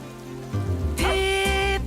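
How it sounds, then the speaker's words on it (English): Rain patters steadily outdoors on a rainy day in a 1993 children's programme, a soft continuous hiss joined midway by a louder sustained tone over the falling drops. "You like the rain. I can't think why."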